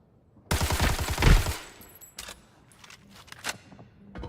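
A fast burst of automatic rifle fire in an Arena Breakout shooter match, loud and rapid for about a second, then scattered single shots and clicks that fade out.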